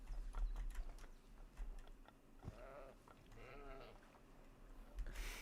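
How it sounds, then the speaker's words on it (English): Baby goats in the zoo game Planet Zoo bleat softly, two or three wavering calls among faint hoof clatter and background ambience. "You can hear the baby goats."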